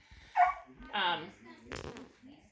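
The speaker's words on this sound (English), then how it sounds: "But you can hear we have a new puppy." A new puppy barks in a home kitchen, giving three short sharp yaps spaced about half a second apart, close but fairly quiet, with a faint voice alongside.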